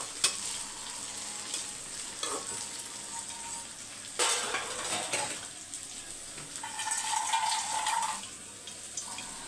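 Vegetables sauté in a frying pan with a soft, continuous sizzle, broken by louder scraping bursts as they are stirred. Nobody speaks.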